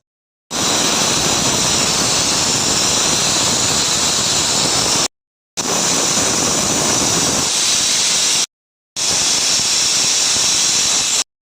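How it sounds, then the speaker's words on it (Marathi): A pressure cooker cooking matar pulao lets out loud, steady, hissing steam whistles, three long bursts separated by short breaks, with no talking. "कुकरचं झाकण लावून कुकरच्या 3 शिट्ट्या करून घेते"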